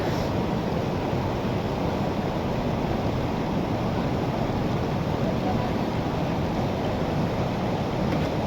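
Floodwater of the swollen Kaliyani river in Karbi Anglong, Assam, rushes past a culvert in a loud, steady, unbroken roar that fills the whole stretch without pause.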